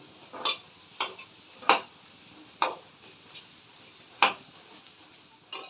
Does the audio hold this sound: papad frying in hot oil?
yes